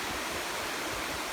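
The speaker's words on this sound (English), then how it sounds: "when the river floods, as it is now" A flooding river rushes below a weir on the Loxley, a steady, dense roar of water that fills the whole clip without pause.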